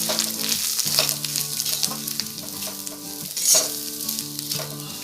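Chana dal with grated coconut sizzles steadily in a hot pan while being stirred, a continuous close frying hiss with soft scraping pulses and a faint steady tonal hum underneath.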